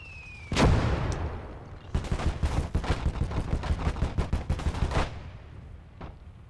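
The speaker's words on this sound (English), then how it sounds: "We are taking shots from a field gun, which is in the centre of town." Gunfire in the WWII video game Gates of Hell, with a field gun shelling from the centre of town: a heavy boom followed by a rapid burst of machine-gun fire and a final distant shot.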